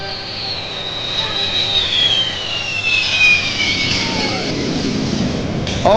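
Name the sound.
air show airplane engine holding speed on throttle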